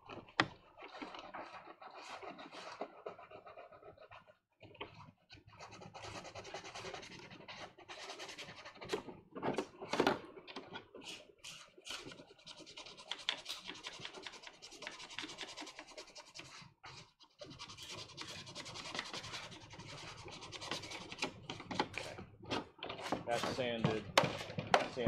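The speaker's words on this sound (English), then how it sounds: "I'm going to go ahead and sand both the tabs while we have a chance" Sanding of armor tabs for a Death Trooper costume kit, heard as irregular rubbing and scraping strokes with occasional knocks, while people talk throughout.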